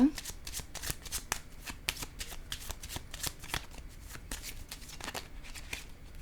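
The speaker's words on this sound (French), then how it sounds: "Je vais déposer une autre carte ici." Tarot cards are shuffled and handled, giving a run of quick papery flicks and soft slaps as cards are laid down close by, with a voice speaking over them.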